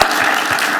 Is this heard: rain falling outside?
no